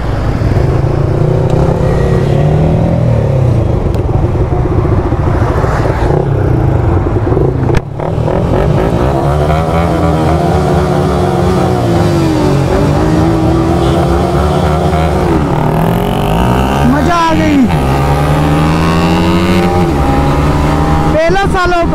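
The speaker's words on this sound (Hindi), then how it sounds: "और अब करने जा रहे हैं हम लोग पांचों बाइक का रेस।" Five motorcycles race on the road: an R15M, RS200, MT15, R15V3 and Duke 250, one carrying a pillion. A loud, continuous roar of engines and wind runs throughout, with rising and falling revs as the bikes accelerate and shift.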